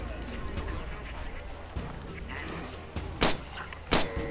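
Gunshots in the zombie survival game State of Decay: a couple of sharp, loud reports near the end, following a stretch of softer game noise and scattered thuds.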